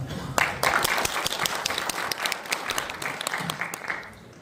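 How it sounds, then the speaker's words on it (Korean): A lecture audience claps to welcome a speaker at a regional history talk. The applause rises sharply, crackles densely for several seconds and then thins out, while a voice speaks briefly over it. "큰 박수로 맞이해 주시길 바랍니다."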